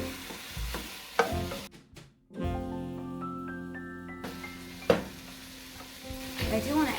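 Food browns gently in a frying pan for a gluten-free lasagna, a soft close sizzle with scattered stirring taps, interrupted midway by a few seconds of sustained tonal sound before the sizzle resumes.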